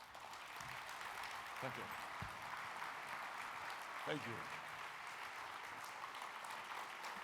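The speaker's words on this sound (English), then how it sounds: "Let's give them another round of applause." Audience applause at the IIT 2013 conference on developing STEM talent, a broad steady clapping texture running the whole length, with a voice offering thanks over it.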